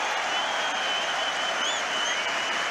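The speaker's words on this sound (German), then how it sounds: "Das Publikum feierte den neuen deutschen Tennisstar mit Ovationen." A tennis crowd bursts into dense, sustained applause after match point, steady and loud throughout with a faint whistle.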